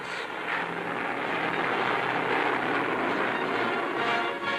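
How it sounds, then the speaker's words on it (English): Squadron of fast P-38 fighter planes flying over as an aerial salute at a Chinese Air Force graduation, a loud, steady broadband engine roar sustained throughout without speech. "Aerial salute for the graduating class from a squadron of fast P-38s."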